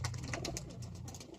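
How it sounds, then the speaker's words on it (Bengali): Several pigeons coo in a low, throaty rumble that runs steadily throughout, with scattered bird chirps and rustles above it, close and moderately loud in a sunny winter-morning setting. "দর্শক বন্ধু দেখতেই পাচ্ছেন পায়রাগুলো খুবই আনন্দের সাথে রয়েছে"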